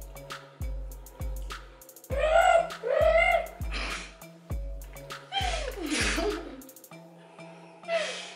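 A person imitates a pigeon's throaty cooing several times in a row, close up, amid laughter and other vocal noises.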